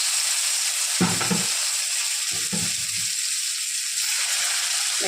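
Pieces of fish laid into hot mustard oil in a pan give off a loud, close, steady frying hiss that runs throughout, with a few soft low bumps as pieces are placed.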